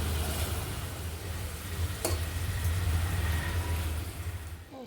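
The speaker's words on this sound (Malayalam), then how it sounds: "ഉപ്പും മഞ്ഞളും ചേർത്ത് വെച്ചിരുന്ന കൊഞ്ചൊന്ന് ഷാലോ ഫ്രൈ ചെയ്തെടുക്കാം" Prawns marinated with salt and turmeric shallow-frying in oil: a continuous, fairly loud sizzle close by, with a low steady hum underneath and no voices.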